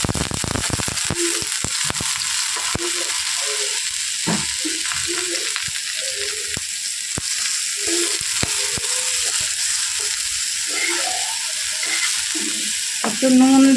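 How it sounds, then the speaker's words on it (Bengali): Grated beetroot tipped into a pan of fried garlic crackles and sizzles loudly, with sharp pops and stirring scrapes over a steady frying hiss. "রসুনটা ভাজা ভাজা হয়ে গেলে এবার দিয়ে দেবো গ্রেট করে রাখা বিটগুলো"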